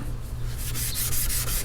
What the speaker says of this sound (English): But the rest I'm just gonna use maroon Scotch Brite.